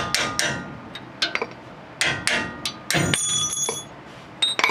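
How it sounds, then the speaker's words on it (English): Sharp metallic taps of a hammer striking a chisel to knock out a brake pin on a Ford F-150, irregular bursts of clinks with a few ringing hits, close and loud. "Get a hammer and get a little chisel thing here or a flathead, and just knock this out all the way."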